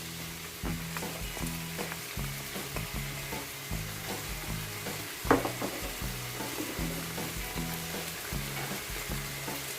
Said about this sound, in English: Alright, I will add on my tomato paste.